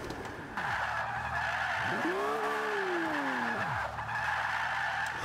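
Tires of a Lamborghini Aventador squeal in a long continuous skid as the car spins donuts in the Forza 5 racing game, the pitch sweeping up and down with each rotation over a steady engine drone.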